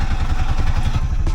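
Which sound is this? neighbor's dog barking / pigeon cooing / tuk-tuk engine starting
tuk-tuk engine starting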